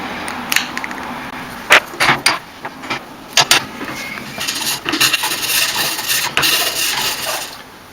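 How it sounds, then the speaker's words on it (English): A hand file rasps across a plastic edge to flatten it, in short scraping strokes at first and then a denser run of rubbing strokes, close and fairly loud. "take a file. I just want to flatten this edge right here"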